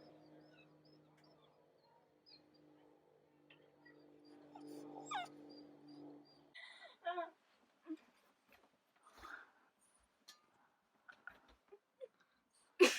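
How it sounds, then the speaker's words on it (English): Timber the dog whines and whimpers in thin, high cries, then gives faint scattered chewing and tugging noises at a doormat, close and quiet with gaps of silence between. "You're sitting here whining and trying to eat the doormat."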